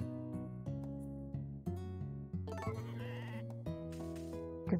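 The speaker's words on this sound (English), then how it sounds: "Oh, the sheep is ready for shearing." Sheep in the Harvest Moon: A Wonderful Life video game bleat repeatedly, a string of quivering baa calls in quick succession, clear and alone with no talk.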